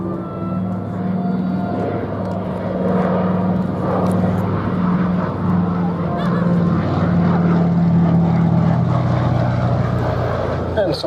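PBY-5A Catalina flying boat, a 1944-built former wartime and fire-bomber aircraft, at an air festival at Duxford, its engines giving a loud, steady propeller drone throughout, with a commentator talking over it.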